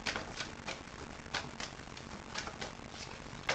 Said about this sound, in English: Shuffling cards here.